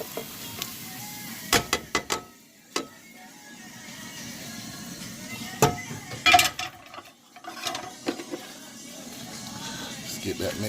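A dressing mixture of meat, onions and peppers is stirred with a spoon, giving irregular scraping clicks and knocks against the pot over a low background of frying sizzle.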